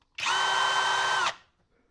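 A Kobalt 24V 3/8-inch cordless right angle impact wrench whirs at steady high speed for about a second, then stops abruptly, with nothing else heard.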